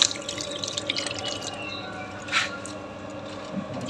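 A thin stream of water runs from a tap fed by a newly repaired Shimizu water pump, a faint, steady trickle with a brief splashy swell partway through.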